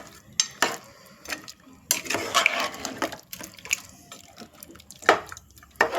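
Water is added to Hassan-style mutton sambar and stirred in a pot, giving irregular bursts of scraping, sloshing stirring with short wet splashes between quieter pauses.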